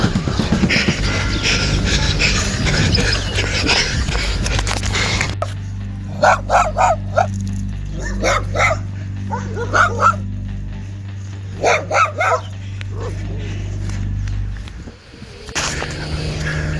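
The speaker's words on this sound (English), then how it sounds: "look like there's a dog out here." Several sharp dog barks ring out outdoors in short clusters, fairly close and loud over a steady low engine-like rumble, with a burst of broadband noise at the start and end.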